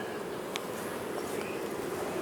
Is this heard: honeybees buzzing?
yes